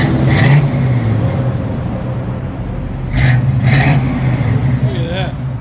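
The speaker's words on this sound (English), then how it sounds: "Can't beat that iconic FLOWMASTER sound, the 40." A 1978 Chevy Camaro V8 with Flowmaster 40 Series true dual exhaust rumbles at idle, then gets two quick, close throttle blips with a deep burbling tone. A person speaks briefly over it.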